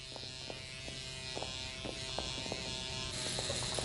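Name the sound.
electric shaver shaving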